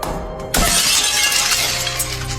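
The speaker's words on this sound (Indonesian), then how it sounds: "Dia memakai penalas untuk memecahkan kaca, lalu menyemprotkan air ke situ." Window glass smashed with a hard object, a sudden loud crash at about half a second followed by a sustained bright shower of breaking and falling shards.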